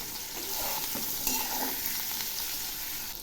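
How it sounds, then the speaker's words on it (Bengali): Eggplant and green chillies with salt and turmeric being stirred in a hot pan, a steady close scraping and sizzling of vegetables frying throughout, no voices. "এবার আমি দিয়ে দিচ্ছি পরিমাণ মতো লবণ আর দিয়ে দিচ্ছি পরিমাণ মতো হলুদ। একটু নেড়ে দিচ্ছি।"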